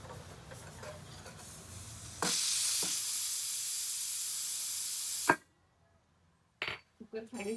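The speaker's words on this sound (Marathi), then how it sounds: "कुकर खाली उतरून ठेवला." A pressure cooker on a kitchen stove lets out a loud, steady hiss of venting steam that cuts off with a metallic clunk, followed by a short silence and then the clatter of pots being handled.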